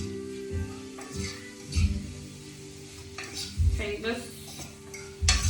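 Shrimp with plenty of garlic is tossed in a pot during homemade Chinese cooking: repeated metal clanks and scrapes of a utensil against the pot over a steady sizzle, with a brief spoken word.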